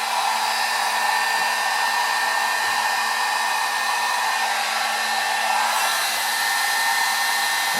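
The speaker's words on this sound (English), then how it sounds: "Turn your heat gun to the high setting." A heat gun set on high blows a steady, loud broadband roar while reheating the glue in a Suzuki GSXR motorcycle headlight lens, holding unbroken for the whole stretch with no talk.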